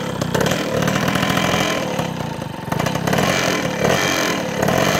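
A 1992 MR1 motorcycle engine roars loudly and continuously with the throttle held, keeping a rough, vibrating, buzzy running note that dips briefly before rising again.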